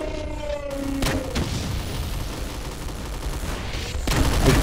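Sentry gun firing in the Doom Zandronum game, a few sharp bursts over a dense steady roar of gunfire and booms, with a louder volley near the end.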